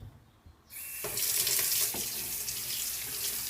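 Hot water gushes steadily from a faucet into a sink, starting abruptly after a quiet moment and running close and loud without a break.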